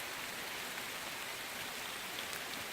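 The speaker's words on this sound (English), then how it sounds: "I thought it was raining hard when I headed for the bush." Hard rain falls steadily in the bush, a dense, even hiss of drops on leaves and ground that holds unbroken and close throughout, with no voices.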